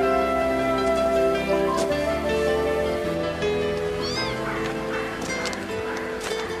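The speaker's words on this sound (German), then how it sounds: "Das ist meine Katze." A cat meowing up close, several drawn-out meows in a row, loud and clear over a quiet indoor background.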